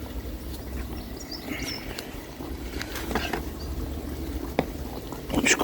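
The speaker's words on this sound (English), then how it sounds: "just put my hose pipe on for 10 to 15" A garden hose on a shower-pattern setting sprays water into a goldfish pond outdoors, making a steady, hissing patter that runs throughout with no voices.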